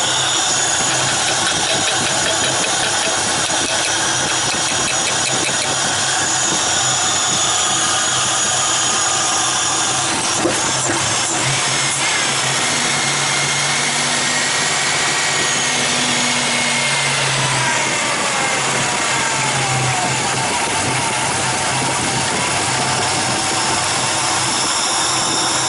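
A Buick Grand National engine runs steadily at idle, a continuous mid-range hum with faint tapping and tool-like clatter layered over it, close and fairly loud throughout with no talk.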